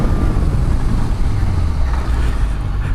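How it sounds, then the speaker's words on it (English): A Yamaha Tracer 900 (2018) motorcycle pulls hard at full throttle in second gear, a loud, continuous low engine roar mixed with heavy wind rush, steady throughout with no speech. "Second gear and full throttle."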